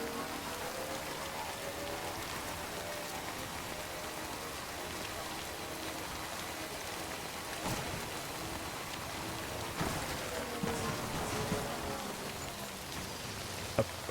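Steady timefall rain in Death Stranding patters across the scene as a dense, even hiss, with faint scattered drops and a few brief louder knocks along the way.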